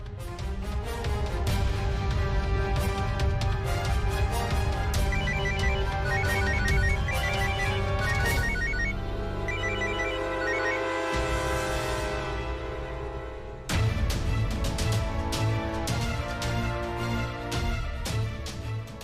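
A melodic electronic ringtone plays on and on over a steady musical backing, loud and close, with a brief pause before the tune picks up again.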